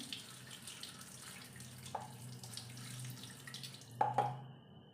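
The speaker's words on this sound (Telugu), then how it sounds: "ఇప్పుడు ఒల్చుకున్న విత్తనాలను కడిగేసుకుందాము" Sweet corn kernels being rinsed in a bowl of water, with soft sloshing and trickling, brief splashes and a louder slosh near the end before a quiet tail.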